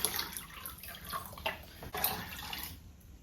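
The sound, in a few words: water being poured into a pitcher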